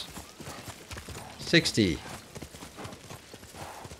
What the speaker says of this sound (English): We're going to get on our horse.